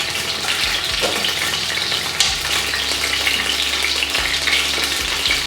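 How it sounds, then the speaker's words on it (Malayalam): A piece of asafoetida fries in hot oil, the same oil used to cook limes for a Kerala-style lime pickle, giving a steady close sizzle with occasional stirring scrapes and no talking. "ആദ്യം ഒരു കായം മൂപ്പിച്ചെടുക്കുക, ഒരു കഷ്ണം."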